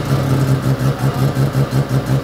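A bridgeported rotary engine in a red Mazda RX-7 FD runs loud and close, its exhaust pulsing in a steady, choppy rhythm that sounds lumpy and uneven at idle.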